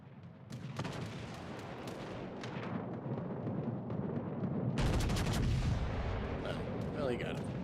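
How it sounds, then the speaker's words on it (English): Ship guns fire at the battleship Musashi in a naval battle game, heavy booming salvos rolling under a dense rumble, with a louder burst of blasts midway and a voice speaking briefly. "I guess we can turn our guns and shoot the Musashi."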